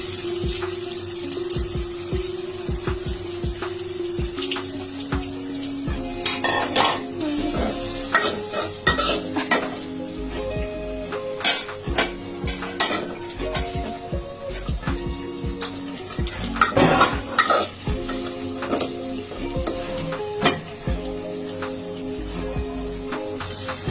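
Biryani ingredients frying in overheated oil with steady sizzling, broken by repeated scraping and stirring clatter against the pot throughout.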